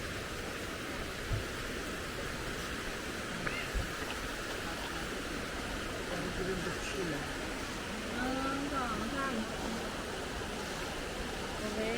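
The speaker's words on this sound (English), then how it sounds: "here's the waterfall" A riverside waterfall in Thailand, near cafes, gives a steady broad rushing roar with some faint passing sounds layered over it and no clear talk.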